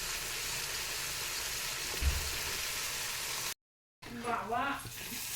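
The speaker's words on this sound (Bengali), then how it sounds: "একটু বেশি সময় ভাজা লাগবে এই মশলা।" Masala spice paste frying in oil, with a steady broadband sizzle running throughout, a brief louder stir around the middle, and a short gap before faint voices come in over the continuing sizzle.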